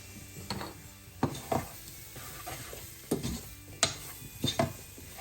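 Spoon stirring flour and thyme into a sweet potato chicken stew in a pan, soft sizzling beneath irregular scrapes and knocks against the pan, close and quiet, no voices.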